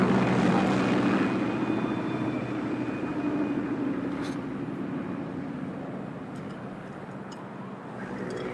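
Aircraft flying at 30,000 feet over Pakistan in Metal Gear Solid 3 Delta: a steady, droning engine roar holds throughout, loud and continuous, with faint brief clicks near the end and no talking.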